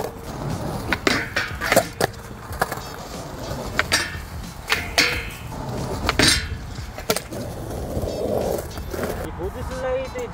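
Skateboard sliding and clattering on a rail, with sharp wooden and metallic knocks and scraping at moderate distance, repeated several times amid outdoor background noise.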